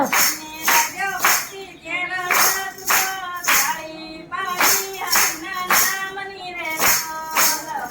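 Steady rhythmic hand claps from a devotional singing group in Bhavnagar, sharp claps landing on the beat under voices singing a Gujarati bhajan about Mirabai.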